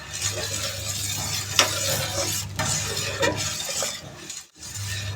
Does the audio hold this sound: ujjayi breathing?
no